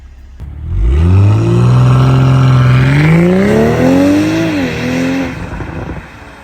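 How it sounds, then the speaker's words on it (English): A G42 car with an Active Autowerks downpipe launches in Sport Plus with launch control, engine roaring hard from a standing start, pitch climbing steadily through gear changes, loud and close, then easing off. "That pull was in Sport Plus with launch control"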